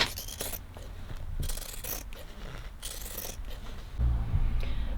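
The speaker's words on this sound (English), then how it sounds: "I'm not the best cut with some scissors, but we're gonna make it work." Scissors cutting material for a makeshift van window cover, several short crisp snipping bursts close by, with a louder rustle near the end.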